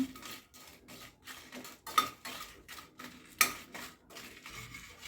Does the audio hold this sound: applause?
no